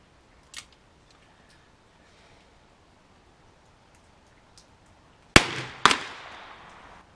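A revolver fires old .38 wadcutter Gévelot ammunition, two loud sharp cracks half a second apart following a long quiet stretch with one faint earlier tick.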